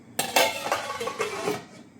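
A cooking pot's lid is set down and closed after water goes in with vegetables for Maggi masala, giving a few close metallic clinks and knocks in quick succession, then quiet.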